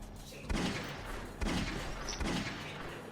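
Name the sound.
gunfire in a video game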